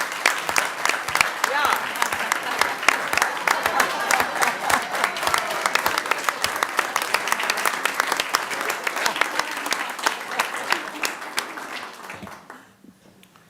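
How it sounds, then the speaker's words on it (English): Dense applause and clapping from the room at a school district board meeting after a roll call vote, loud and steady for about twelve seconds before tapering off, with a brief voice mixed in. "They all clap until you discipline them."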